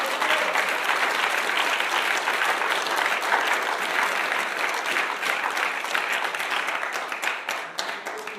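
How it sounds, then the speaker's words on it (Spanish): Church congregation applauding loudly during a sermon, a dense, sustained wash of many hands clapping at once that stays full and even before thinning slightly near the end. "denle un aplauso fuerte a su presencia."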